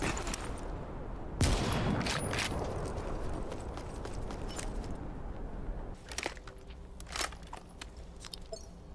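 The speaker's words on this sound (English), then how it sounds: "So I'm gonna shoot him in the face." X40A1 sniper rifle firing in the video game Super People, a sharp loud report early on followed by a few quieter cracks and clatter over steady game ambience, with no talking.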